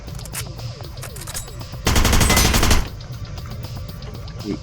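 Desert Eagle pistol fire in the video game Hitman: Blood Money: a loud, dense burst of rapid shots lasting about a second, set among quieter repeated game clicks and ambient effects.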